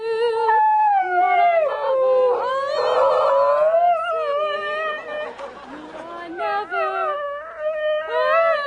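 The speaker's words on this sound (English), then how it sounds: "Singing dog contest." Several dogs howl and yowl together in a singing dog contest on a television stage, long wavering pitched howls overlapping close up, mixed with audience chatter and laughter.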